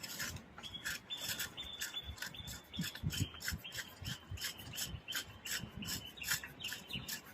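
A swivel reducer being fitted onto a standpipe hose coupling, giving close, repeated scraping and rubbing of metal and fabric in short irregular strokes, with no voices.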